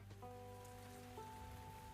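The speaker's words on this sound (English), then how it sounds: "Ooh, a rainy day." Faint, steady rain patters on a surface in a video game, with soft sustained tonal notes ringing quietly over it.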